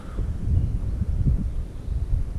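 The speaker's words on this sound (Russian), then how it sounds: "В общем, ветер не прекращается. Сумасшедший, просто дует такие порывы." Strong gusty wind outdoors on a pike and perch fishing trip, a low rumbling buffet against the microphone that surges and eases in waves, loud and close, with no talking.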